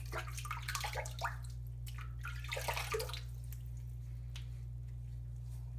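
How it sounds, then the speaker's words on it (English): Water splashing and sloshing as hands wet a face before a shave, a few close bursts in the first half that fade to quiet, over a steady low hum. "I'm going to wet my face."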